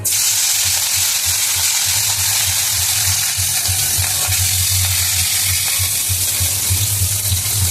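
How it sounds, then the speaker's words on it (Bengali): Catla fish sizzling in smoking-hot oil in a wok, a loud continuous hiss and crackle with a low humming burner underneath. "তো আমি মাছটা কড়াইতে দিয়ে দিচ্ছি, তেলটা পুরো গরম হয়ে গেছে"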